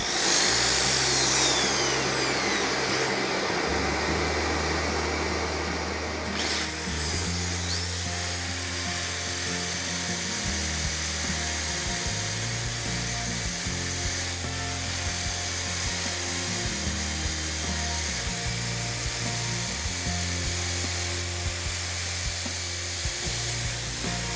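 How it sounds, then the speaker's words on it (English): A small handheld sanding machine smooths a spalted beech vase with a continuous high, whining drone. It stays loud and close for the whole stretch, with a brief rising pitch near the start. "Now get a little sanding machine to do the last part."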